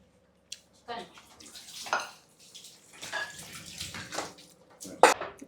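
Water poured into a glass in a home kitchen, several short splashing bursts with clinks, under and between people talking.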